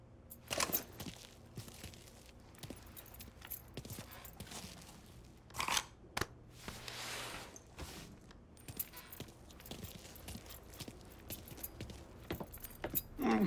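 Keys jangle as they are picked up in the video game Mafia III: short metallic rattles that stand out against quiet game ambience and faint background noise.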